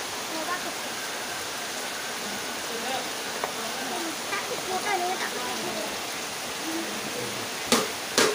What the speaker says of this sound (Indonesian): Hujan terus kayak gini.